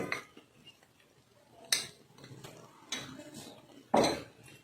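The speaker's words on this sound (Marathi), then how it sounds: "व हे सगळं एकजीव करून घ्यायचं आहे." Spoon scraping and clinking in a pan while dink laddu mixture is stirred with ghee, cardamom and nutmeg powder; a few sharp metallic knocks stand out over quiet rustling.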